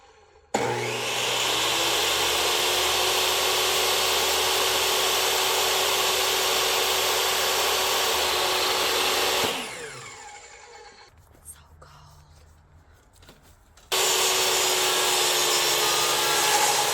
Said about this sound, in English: And now we're just getting ready to start ripping some plywood.